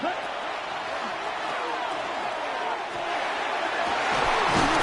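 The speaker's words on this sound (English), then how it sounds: "Crowd noise rises." At a football game, crowd noise swells as a broad, steady roar that slowly rises in loudness, with voices talking over it.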